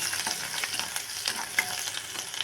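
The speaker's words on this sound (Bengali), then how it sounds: "একটা কড়াই গরম করে তাতে তেল দিয়ে তেল গরম হলে দেব শুকনো লঙ্কা চেরা কাঁচা লঙ্কা থেতো করা রসুন" Dried red chillies, slit green chillies and crushed garlic fry in hot oil in a kadai, giving a dense, continuous close sizzle with a few small crackles, no voices.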